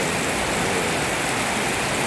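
Heavy rain pouring down during a stormy rainy season, a dense, loud, continuous hiss of drops beating on surfaces with no break and no voices.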